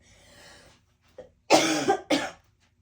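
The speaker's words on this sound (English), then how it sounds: "you're going to get a lot of coughing" A few harsh coughs close by, two strong bursts after a softer one, with a quiet murmur just before.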